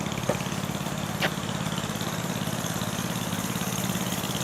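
A small motorized scooter engine drones at a steady, slightly labored pace as it bogs down riding over grass, heard at moderate distance without talking.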